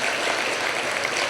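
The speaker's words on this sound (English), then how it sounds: "can we please have another round of applause for all the fantastic awardees this evening?" Dense, even applause from the audience at an alumni awards gala honoring the awardees, a continuous wash of many hands clapping with no breaks or voices.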